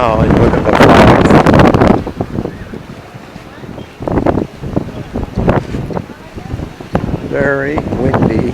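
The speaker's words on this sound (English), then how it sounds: "Very windy." Strong wind buffeting a small boat on San Francisco Bay, rough gusty blasts against the microphone with intermittent voices talking over them.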